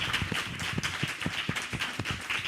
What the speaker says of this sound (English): let's give a big, big round of applause